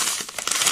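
A sachet of powdered carp bait mix crinkles as it is emptied into a mixing preparation, a quick burst of close, crisp rustling with no voices.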